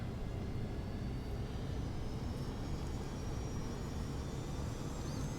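A Boeing 737-200 rolls down runway 23 for takeoff in a flight simulator, a steady, fairly quiet jet engine roar with a faint high whine running throughout, uninterrupted and even.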